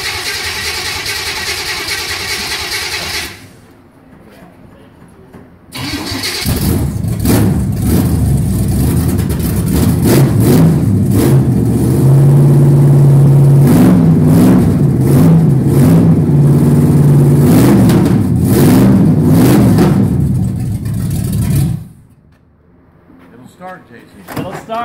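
A car engine cranks and catches, then revs and runs loud and rough for about fifteen seconds before cutting off, with people talking near it before and after.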